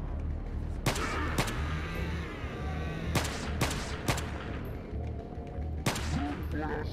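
Pistol shots ring out in Resident Evil 4 with the Rising of Evil mod, six or so sharp, loud reports at irregular intervals over game ambience and music.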